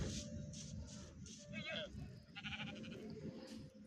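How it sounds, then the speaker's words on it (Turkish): Several video game sheep bleat in short, wavering cries over a soft background hum, with a person talking quietly at the same time. "Şu an 3 tane koyun var burada"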